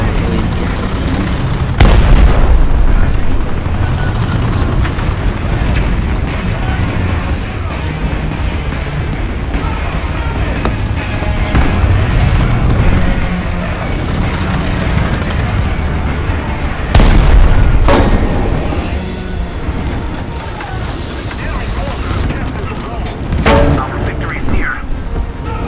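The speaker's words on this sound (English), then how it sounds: "Thankfully, I should be able to take them out with artillery." Artillery shells burst in a War Thunder mobile tank battle, heavy booms landing loudly over a continuous rumble of battle noise, with two especially strong impacts about fifteen seconds apart.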